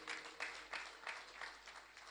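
Audience at a Hindu saints' gathering (sant sammelan) during a silver jubilee festival applauds to welcome an honoured guest, with clapping rising in several pulsing bursts, moderately distant and fairly faint.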